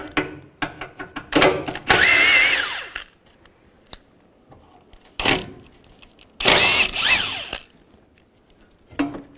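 Power drill with a 13mm socket backing out radiator bolts on a 1998-2010 VW Beetle, loud whirring bursts of a few seconds each, separated by short pauses and small clanks.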